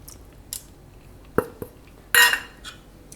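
A spoon clinks and scrapes against a bowl in a few separate sharp strokes as chickpea appe batter is mixed with semolina and yogurt, close and otherwise quiet.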